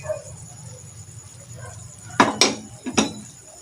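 A utensil scrapes and clanks against a pot while chicken, carrots and potatoes are stirred, giving a few sharp metallic knocks over a faint background hum.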